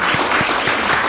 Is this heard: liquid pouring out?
no